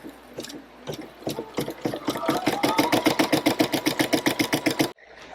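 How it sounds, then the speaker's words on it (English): Caydo CE01 embroidery machine stitching: a few scattered starts, then a steady fast run of regular mechanical clatter at close range that stops abruptly near the end. "And then I'm going to go back to embroider."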